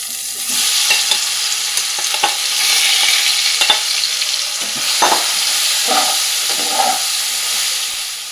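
Spiced soybean chunks tipped into a pan of hot oil with whole garam masala, cinnamon, cloves and cardamom, sizzling and hissing steadily while a spoon scrapes and stirs in irregular bursts, close by and without talk.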